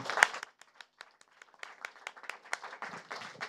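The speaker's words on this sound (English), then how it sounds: "let's give all 8, 9 of our panelists so far a huge round of applause" Sparse, scattered clapping from a conference audience for panelists at a soil health event, faint individual claps spaced irregularly, thickening slightly toward the end.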